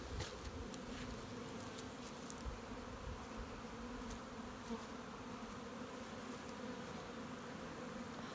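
Honey bees buzz around a hive in a beeyard, a steady, even drone that holds for the whole stretch with no pauses, fairly quiet, with a few faint ticks over it.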